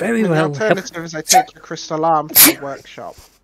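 A person sneezes once, a short sharp burst breaking through ongoing conversation.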